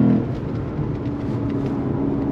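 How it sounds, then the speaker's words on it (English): A Lexus IS 500 F sedan's V8 engine accelerating hard in Sport Plus with paddle shifts, a steady loud rumbling drone heard from inside the car, without talk. "Here we go, on throttle! The sound of that V8."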